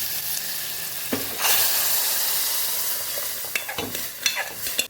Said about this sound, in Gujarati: તો અહીંયા આપણે દાળને ઉમેરી દઈશું.